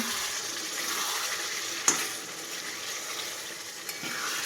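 Spiced chicken sizzles and fries in a pan with a steady hiss, stirred now and then, with one sharp scrape or knock near the middle and no talking.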